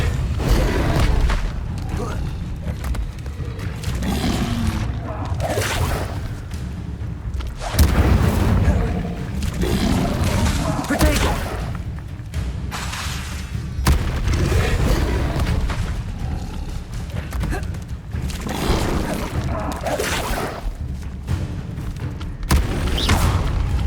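Repeated booming fire-spell blasts from a Hogwarts Legacy battle, thudding impacts coming every second or two amid loud game effects, with voices shouting over the combat throughout.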